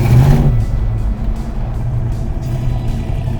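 A 1972 Plymouth Road Runner with a pistol-grip 4-speed manual and a troublesome carburetor cruises around a storage yard, its engine a steady, loud low rumble throughout with a brief louder surge at the start.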